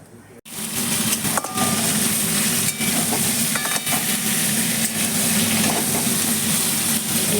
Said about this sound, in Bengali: মাংসটাকে আমি একটু ভেজে নিচ্ছি